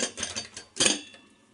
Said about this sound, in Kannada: ಈಗ ಕುಕ್ಕರ್ ಮುಚ್ಚಳ ಮುಚ್ತಾ ಇದ್ದೀನಿ.